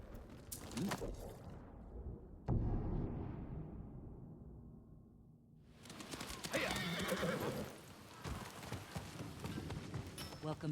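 Horses in the video game Ghost of Tsushima whinny and clop along, loud hoofbeats and neighing near at hand, broken by a sudden burst and a quieter stretch before galloping resumes, with a voice briefly speaking.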